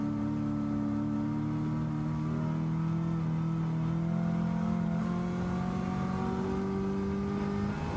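An 800-horsepower V8 race car engine in a racing sim game holds a steady, loud drone with harmonic tones that rise slowly as it revs, continuous and close throughout.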